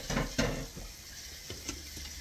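Pots of food cooking on a stove during a Jamaican Sunday dinner, giving a low steady sizzle and bubbling with a couple of soft clinks and stirring knocks, close and moderately quiet, with no talking.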